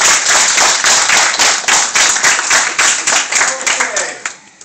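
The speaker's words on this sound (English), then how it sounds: "Give yourselves a round of applause." A small group applauds together at a meeting where members have just introduced themselves. The clapping is close and steady, then thins and trails off near the end.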